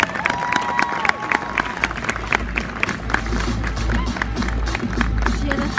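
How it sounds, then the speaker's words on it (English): Applause for a cosplayer at Gammacon convention, a crowd clapping loudly and steadily with cheering and chatter mixed in. "Massive round of applause"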